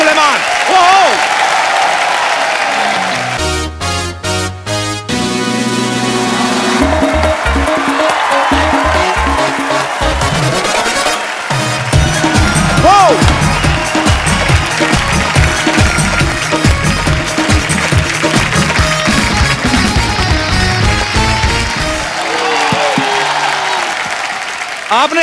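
A studio audience at a comedy television talk show applauds loudly and continuously, mixed with band music and a host speaking over the clapping.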